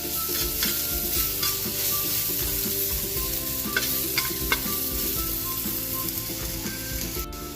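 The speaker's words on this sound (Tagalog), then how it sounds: "Lagyan na natin yung ating bawang para sa ating ginisang munggo" Garlic sautéing in a pan as the base for ginisang munggo, a Filipino mung bean stew, with a steady sizzle of hot oil and repeated scrapes and clicks of stirring, close and continuous with no talking.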